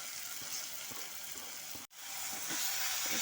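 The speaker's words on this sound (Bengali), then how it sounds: "বেগুন ভর্তাটা দিয়ে সমস্ত কিছু পেঁয়াজ, কাঁচা লঙ্কার সাথে, মটরশুঁটির সাথে ভালো মতো করে মিশিয়ে নিচ্ছি।" Mashed eggplant stirred with onion, green chili and peas in a frying pan for Bengali begun makha, giving a steady close sizzle with soft scraping strokes and a brief break partway through.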